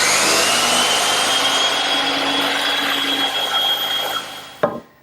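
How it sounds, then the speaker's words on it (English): A bandsaw trims a wooden tenon in a workshop, a loud continuous whirring cut with a steady blade hum that carries on for several seconds, then abruptly ends with a sharp clunk as the saw stops. "I could cut it by hand, but why waste a bandsaw when it's right here in the shop?"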